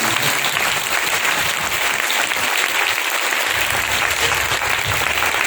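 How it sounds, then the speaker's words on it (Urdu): Congregation clapping hands together in a church during a Palm Sunday service, a dense, steady wash of applause filling the room for several seconds without a break. "اگر تو شادمانی سے ہے تو آئیے ذرا تالیاں بجائیں اپنے خدا کی۔"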